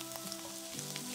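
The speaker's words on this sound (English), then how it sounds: "So I'm gonna be adding in some butter and some onion to get that sauteing" Butter and onion sauté in a hot pan for Spanish-inspired cauliflower rice, making a dense, continuous sizzle that stays close and steady with faint stirring ticks through the short moment.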